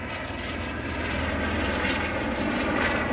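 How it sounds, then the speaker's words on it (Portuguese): A helicopter passing over a wooded hillside gives a steady, moderately distant engine drone that hums evenly throughout, with no talking. "É um helicóptero, ó."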